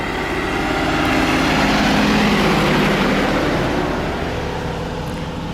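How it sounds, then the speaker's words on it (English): A truck passes on a road along the Portuguese Camino, its engine rumble swelling to a loud peak and then slowly fading as it moves away, with no talk. "now it gets a little noisy. There's a truck."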